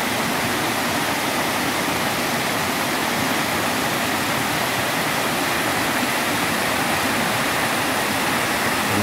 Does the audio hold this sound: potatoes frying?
no